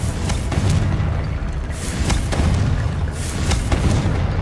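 Spell explosions from the Confringo fire curse in the Hogwarts Legacy video game, a series of loud booming blasts at roughly one-second intervals over a dense, rumbling low-end din of combat.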